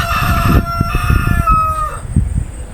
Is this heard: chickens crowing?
yes